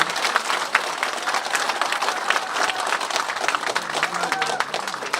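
Audience applause at a campaign office opening, a sustained, moderately loud burst of many hands clapping with faint crowd murmur under it.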